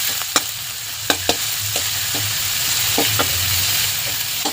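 Onion tossed into garlic sautéing in a pan, a constant gentle sizzle with irregular sharp clinks and scrapes of a utensil against the metal.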